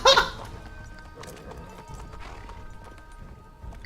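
A horse gallops in Assassin's Creed III, quick clip-clop hoofbeats running beneath game effects after a sharp impact at the start, with the rhythm continuing steadily throughout.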